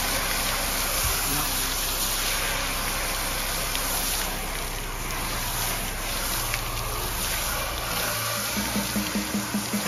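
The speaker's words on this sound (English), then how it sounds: "Let's see how that rinses away." Steady hose water sprays across a car's paint near the emblem, rinsing off dirt as a constant close rushing hiss with splashing, running unbroken throughout.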